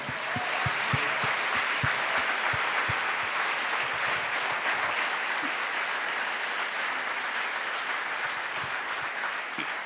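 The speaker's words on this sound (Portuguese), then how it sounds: "Vamos aplaudir o nosso Senhor" A church congregation at an anniversary service applauds, a dense sustained wash of clapping with a few rhythmic low thumps early on, steady and fairly loud throughout.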